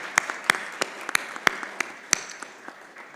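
Sparse, scattered clapping from a conference audience at an India economy policy session, a handful of distinct sharp claps spaced irregularly over a soft background rather than a full ovation.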